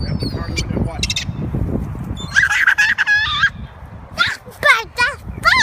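A flock of birds being fed thrown bread calls out with loud honking and squawking cries near the end, following close, noisy rustling and movement, with people talking at times.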